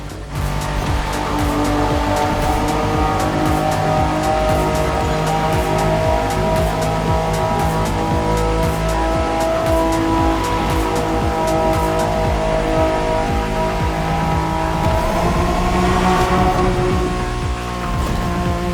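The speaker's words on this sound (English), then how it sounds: "This is the Liberty Walk version of the 92 Honda NSX." Liberty Walk 1992 Honda NSX in the racing game The Crew Motorfest, its engine droning loud and steady at high revs with a tire squeal, continuous throughout.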